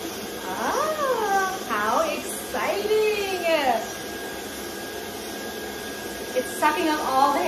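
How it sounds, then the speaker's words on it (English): A new vacuum drones steadily while sucking loose hair from a Bernese Mountain Dog during grooming, a constant close whir running beneath people chatting over it. "Sucking up all the hair."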